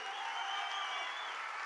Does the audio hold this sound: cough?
no